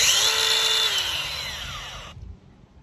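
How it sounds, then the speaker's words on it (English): A Dewalt 20V grinder used for trimming horse hooves runs at a high, steady whine close to the microphone for about two seconds, then cuts off and leaves quiet background. "here's my regular Dewalt grinder"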